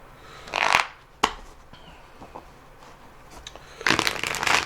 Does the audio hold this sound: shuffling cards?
yes